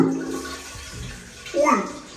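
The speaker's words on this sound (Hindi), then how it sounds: "मेरे पीछे पानी आ रहा है" Water from an automatic toilet bidet sprays in a steady close hiss, with a person's voice breaking in near the end.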